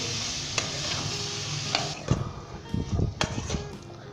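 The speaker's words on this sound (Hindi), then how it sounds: "आलू शामिल करेंगे, गोभी शामिल करेंगे और अच्छे तरीके के साथ इसे मिक्स कर लेंगे।" Potatoes and cauliflower being stirred together in a frying pan for aloo gobi, with a steady low sizzle under scattered scraping and clinking spoon strokes that come in short bursts.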